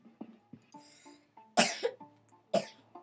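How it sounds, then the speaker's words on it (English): A person coughs several times in short, sharp bursts, the loudest two close together, with small throat sounds between them, near and alone without speech. "You're coughing up all over there."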